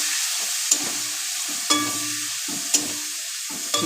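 Chicken curry frying in a pan with a steady close sizzle, broken by four sharp scraping stirs of a spoon against the pan at roughly one-second intervals, no voices.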